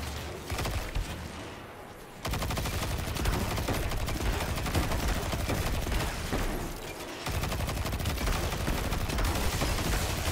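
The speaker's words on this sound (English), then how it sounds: "I think that's his gun making those poop sounds" Continuous rapid gunfire from an enemy boss's weapon in the video game Destiny 2: a dense, loud, unbroken barrage with a brief dip near the start and another lull around seven seconds, then resuming.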